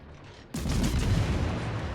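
Warship main guns fire at long range in a naval battle game, a sudden heavy boom bursting in after a quiet moment and rolling on as a loud, sustained rumble.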